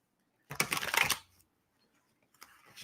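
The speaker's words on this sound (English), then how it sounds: "let me finish shuffling" Tarot cards shuffled by hand in a quiet room: a short burst of riffling, a pause, then a brief second riffle.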